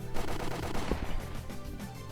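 Rapid machine gun fire from the Higurashi visual novel game, a dense continuous burst of close, loud gunshots filling the whole stretch.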